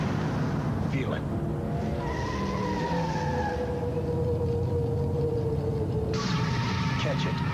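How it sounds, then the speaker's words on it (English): A Miller Genuine Draft Rusty Wallace stock car roars with sustained engine drone and whining tones throughout, sounding like racing traffic, with a brief sharper burst near the end. "A Miller Genuine Draft Rusty Wallace stock car."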